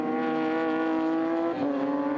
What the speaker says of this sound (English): You can hear revving highly in the background.